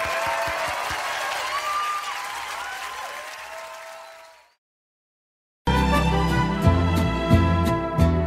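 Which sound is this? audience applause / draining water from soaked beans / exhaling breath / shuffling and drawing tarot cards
audience applause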